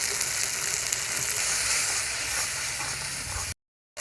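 Ground chili, turmeric, cumin and coriander sizzling in hot oil, a steady bright crackling hiss that runs continuously before cutting off abruptly near the end.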